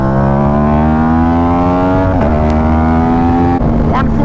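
A Yamaha YZF-R1 motorcycle engine roaring loud and close while ridden, a steady high drone that shifts pitch with gear changes and throttle.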